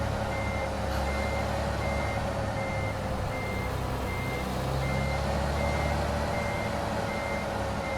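A truck in American Truck Simulator backs in with its reversing alarm beeping at an even, repeating rhythm over the low, steady rumble of the idling engine, and no one talks.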